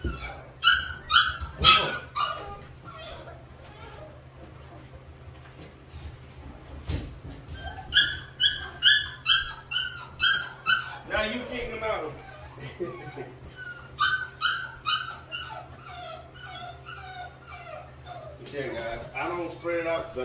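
American Bully puppies during a pen clean-up, repeatedly yipping, barking and whimpering in short bursts up close, over a steady low hum, with occasional human talk mixed in.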